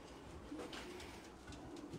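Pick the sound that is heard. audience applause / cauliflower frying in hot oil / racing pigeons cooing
racing pigeons cooing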